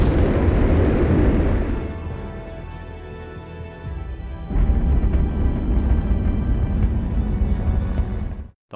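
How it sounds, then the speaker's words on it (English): Nuclear explosions propelling a space probe in the 3 Body Problem series: a deep, roaring blast that rumbles and fades, then a second heavy boom swells into a long, sustained rumble before stopping abruptly. "The launch initially proceeds without a hitch, with each nuclear explosion propelling the probe faster and faster."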